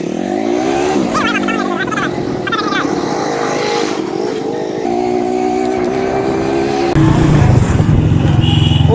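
A Mehran car engine hums and revs loudly up close, its pitch rising and settling in steps and growing heavier toward the end, while voices chatter over it.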